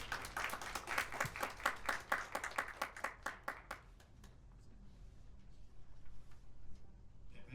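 Applause for a professor after his presentation at an academic conference session, a short burst of many hands clapping in the first half that fades into quiet room tone.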